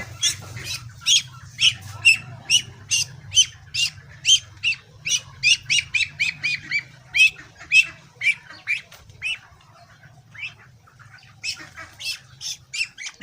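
Black ducks and their ducklings calling near the camera, a run of loud repeated squawks and quacks in uneven bursts with softer chirps and a steady low hum underneath.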